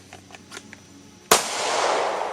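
A single sharp pistol shot, drawn from a concealed-carry holster at a shooting range, cracks loudly and close after a few soft clicks and handling noises, then rings out into a broad decaying echo.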